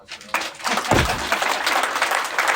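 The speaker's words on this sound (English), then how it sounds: "I think we got to give Jim a round of applause for that" An audience breaks into applause for Jim at a company meeting, the clapping swelling quickly after a faint voice and staying loud and dense throughout.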